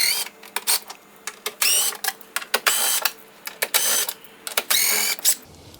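A power tool or ratchet working 10mm bumper retaining bolts free on a Tesla Model Y front bumper, heard as a rapid series of loud, close whirring bursts with short pauses between them, no talk.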